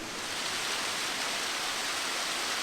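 A small waterfall pours in a steady, even rush of broadband water noise, close and continuous with no voices over it.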